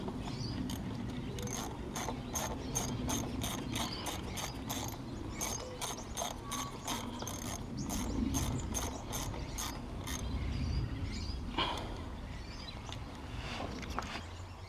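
A ratchet wrench clicks in quick, even bursts while tightening spark plugs or ignition coils on a 1999 Volvo S40 Turbo, close and fairly quiet, with short pauses between runs of clicks.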